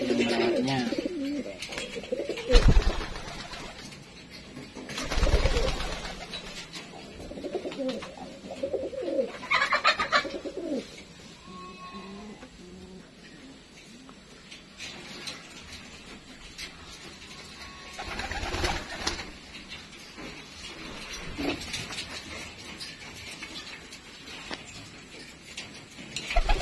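Pigeons coo softly on and off amid a busy, noisy background, with a few louder bursts of rustling and movement.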